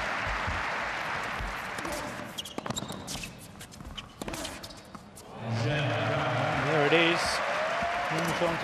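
A tennis crowd cheering and applauding after an ace, a broad wash of clapping that fades, then returns under a commentator's voice as the roar builds again.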